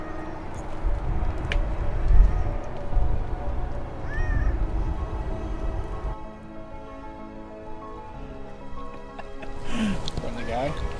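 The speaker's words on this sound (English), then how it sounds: "a newly found gas station cat stowaway" A stray cat at a gas station meows several times in short, plaintive calls, close to the mic, while people talk throughout.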